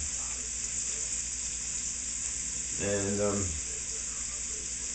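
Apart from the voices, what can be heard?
onions and garlic sautéing in a pan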